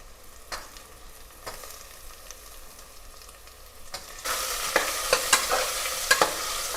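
Tomatoes drop into a hot pan for a mutton chops dish, and a soft stirring scrape gives way to a sudden, louder steady sizzle with crackling pops nearby, without any talking.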